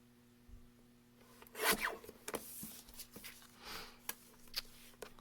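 Paper pieces for a Paper Pumpkin card craft are cut and handled with crisp, scratchy bursts of cutting and rustling. A louder cut comes early, followed by several quieter snips and rubs close by, without speech.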